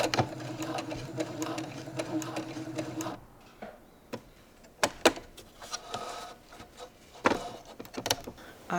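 A sewing machine needle drives through many layers of fabric at a thick shirt seam, whirring steadily for about three seconds, then stopping and starting in short, sharp bursts.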